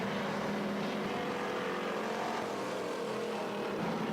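Pure stock race cars roar around Springfield Raceway in a dense, continuous wall of engine noise, several cars blending together at steady full volume.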